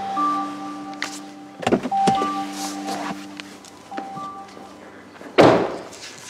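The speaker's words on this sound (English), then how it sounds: "we've got the electric sunroof, which opens up there at the touch of a button" The electric sunroof of a 2016 Hyundai Tucson 2-litre diesel whirs open in several short motorised bursts, with a couple of soft thumps from the mechanism, heard close up inside the cabin.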